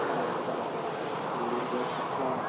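A jet airliner lands at an airport, heard as a steady broadband engine roar at moderate distance, level and unbroken for the few seconds, with faint wind noise.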